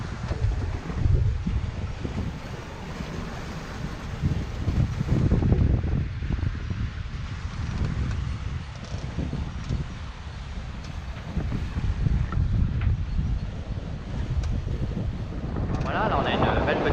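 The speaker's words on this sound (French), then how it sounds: "ce vent qui souffle là, à 15 nœuds réguliers" Steady 15-knot wind on a Mahé 36 sailboat roaring across the microphone with a low rumble, close and continuous, with water sloshing faintly beneath and occasional louder gusts.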